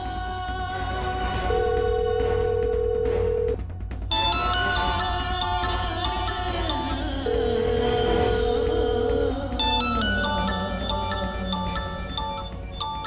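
A phone ringtone plays a repeating electronic melody, steady and fairly loud, running for several cycles with no talking.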